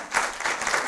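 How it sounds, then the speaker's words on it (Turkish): Applause from a group, a short burst of steady clapping with slight swells, moderately loud with no voices. "Başkanımıza da bir alkış bildi"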